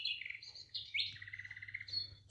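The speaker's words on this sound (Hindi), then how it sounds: "हमारे आंगन में नित्य से यह चिड़िया अपनी चहचहाट लगाती है।" A house sparrow chirps in a home courtyard, a clear run of bright repeated chirps and short trills, close and fairly loud over a low steady hum.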